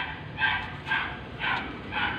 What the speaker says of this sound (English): the dogs being provoked into making loud noise across on the other side of the road